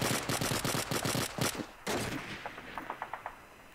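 Machine gun fire in the online game Call of Duty 2 rattles out in loud, rapid bursts, then a second burst follows before fainter, more distant shots repeat at a steady rhythm.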